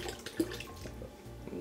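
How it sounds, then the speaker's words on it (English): Barefoot Bubbly sparkling wine poured from the bottle into a serving container for a holiday cocktail, a steady close gurgling liquid stream running throughout with a small splashy burst partway through. "So you're going to pour that whole bottle in there."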